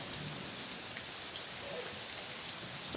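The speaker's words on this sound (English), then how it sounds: "listen to the rain" Soft, steady rain falls during a thunderstorm, a continuous hiss dotted with a few louder drips and ticks, heard at a distance.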